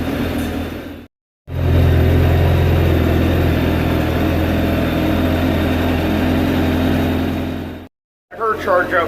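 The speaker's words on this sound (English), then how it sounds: "There she goes. Let it idle. Just let her idle." A truck engine idles loudly and steadily nearby, a deep continuous rumble that cuts out briefly at the start and near the end, with voices toward the close.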